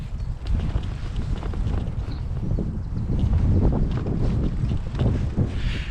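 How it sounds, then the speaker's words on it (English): Steady wind buffeting the microphone outdoors during a bicycle tour, a constant loud low rumble with gusty fluctuations throughout, close and unbroken, with no clear speech. "there's a bit of wind, so I don't know if you can hear me."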